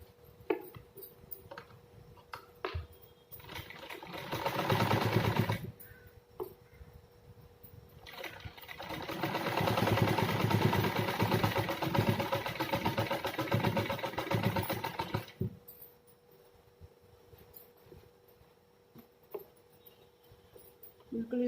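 A sewing machine runs a seam along marked lines on a salwar, in two bursts of steady mechanical whirring, a short one and then a longer stretch, with quiet handling noise between them.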